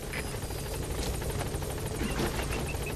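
Extraction helicopter in Metal Gear Solid V: The Phantom Pain, its rotor beating in a steady rapid chop with a whining engine drone, loud and close throughout, no voices.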